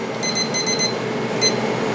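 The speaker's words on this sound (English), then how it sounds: "And I'm gonna set the timer for another 5 minutes" A kitchen timer being set while making bagels beeps in quick high-pitched electronic chirps, a rapid cluster of beeps followed by one more after a short pause, close and clear.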